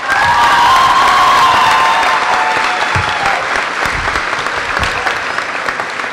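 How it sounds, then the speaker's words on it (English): A high school graduation audience applauds a retiring teacher, with dense sustained clapping and some cheering that is loud at first, then eases slightly while still carrying through to the end. "Please give her a round of applause."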